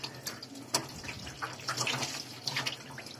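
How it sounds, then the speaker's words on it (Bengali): Tap water runs and splashes into a sink as a scaled fish is rinsed by hand, with irregular faint splashes and trickles close by and no talk. "মাছটা ভালো করে ধুয়ে নিলাম"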